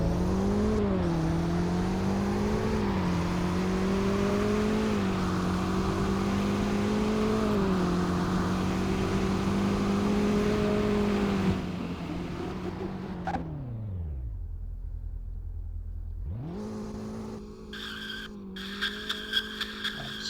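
Car engine in the Roblox game Greenville, a 2021 Falcon Stallion EcoBoost, launching in second gear: a loud, steady engine drone with tire skid holds for about eleven seconds, then drops to a low idle before revving back up.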